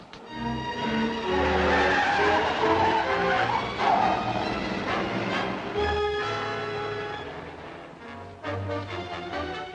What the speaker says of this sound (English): That's my car.